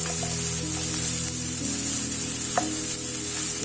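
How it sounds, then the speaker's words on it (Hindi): Carrots frying in hot oil in a pan, a loud, continuous close sizzle with faint stirring clinks, no voices. "एक पैन लेते हैं और उसमें ऑयल डाल देते हैं और उसमें गाजर डाल देते हैं"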